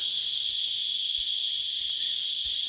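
Dense, unbroken buzzing of thousands of cicadas, a loud steady shrill drone holding at one pitch throughout, with no voices.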